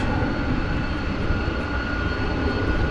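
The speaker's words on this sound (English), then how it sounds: "here goes the flight to Las Vegas" Airplane taking off at night from DFW Airport, bound for Las Vegas, its engines a loud, steady broadband roar that holds unbroken throughout.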